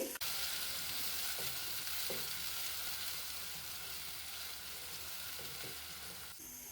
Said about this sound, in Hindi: प्याज को हम गोल्डन कलर आने तक फ्राई करेंगे।